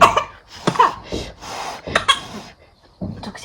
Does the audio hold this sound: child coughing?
yes